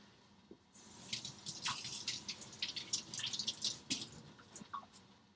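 Cilantro rinsed under a running tap, irregular splashing and dripping water that starts after a short quiet moment and continues with uneven spatters, close and fairly soft, no voices.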